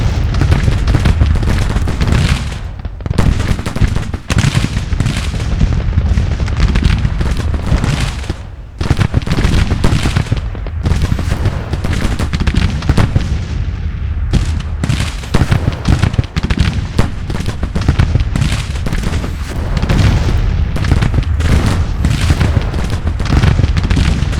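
Artillery in Grand Tactician: The Civil War firing at skirmishers, loud repeated booms and crackling volleys in irregular bursts throughout, near and heavy.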